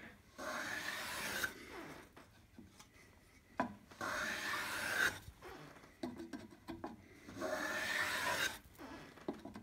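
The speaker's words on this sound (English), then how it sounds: "I'll switch over to the number two hollow. And I'll work in at about 45 degrees until I get a full width shaving here" A number two hollow plane cuts wood shavings at about 45 degrees, three long close rasping strokes separated by quieter gaps with small knocks and scrapes.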